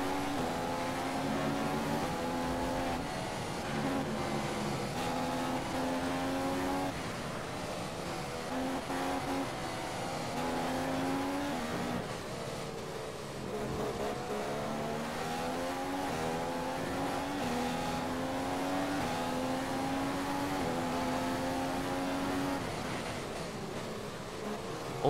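Formula 1 race cars on the Chinese GP circuit in the F1 2015 video game, a continuous whining engine drone whose pitch rises and falls with shifts and throttle, steady and loud for the whole stretch with no talk.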